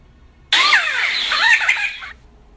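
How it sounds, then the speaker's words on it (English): A quetzal gives a loud, harsh squawking call lasting about a second and a half, rough and raspy with wavering tones, heard close and alone against a quiet background. "Quetzal."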